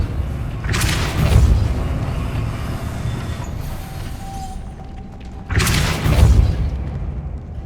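Depulso force-push spell in Hogwarts Legacy, two heavy booming blasts a few seconds apart, each a loud broadband whoosh with a deep thud, over a low rumbling ambience.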